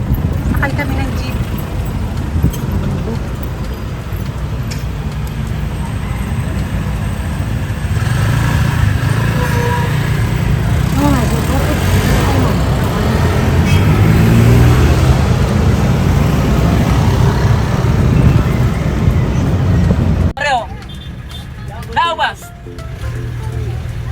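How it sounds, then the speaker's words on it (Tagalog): A jeepney carries passengers through busy Cebu traffic, its engine rumbling steadily and loud beneath continuous road noise and passing vehicles, with talk mixed in and a sudden drop to quieter surroundings near the end. "Sakay kami ng jeep."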